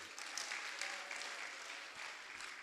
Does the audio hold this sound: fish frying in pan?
no